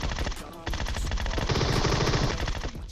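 Groza rifle fire in PUBG Mobile, heard as a rapid automatic burst of loud, close shots running almost continuously, with game sounds layered around it.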